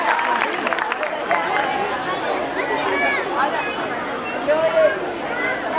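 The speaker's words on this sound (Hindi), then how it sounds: "जोरदार तालियां से स्वागत।" A crowd at an outdoor Ramlila stage event applauds to welcome a guest being honoured, steady clapping mixed with loud chatter and babble throughout.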